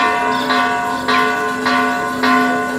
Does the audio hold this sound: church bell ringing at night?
yes